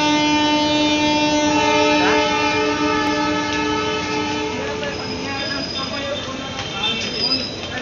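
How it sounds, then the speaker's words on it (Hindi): Train at Rajgampur railway station, with steady rumble, squealing wheels and tonal horn-like whines, loud and close throughout; no clear talk. "ये राजगांवपुर रेलवे स्टेशन है।"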